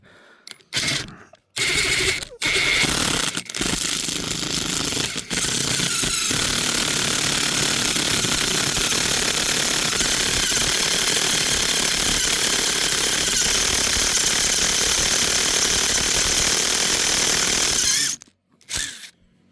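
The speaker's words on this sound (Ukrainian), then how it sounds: "Ладно, посверду далі." A power drill bores into a steel hammer outdoors, a loud steady grinding whine running almost unbroken for about fifteen seconds after a few short starts and stops.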